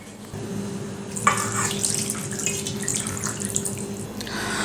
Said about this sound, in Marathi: हे चिकन दोन ते तीन वेळा स्वच्छ धुवून घ्यायचं आहे